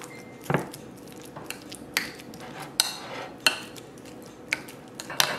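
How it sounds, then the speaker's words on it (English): A spoon mashes four ripe avocados for homemade guacamole, soft squishing strokes punctuated by repeated clinks of the spoon against the bowl, close and fairly loud with no talking. "I just use the back of the spoon to mash it"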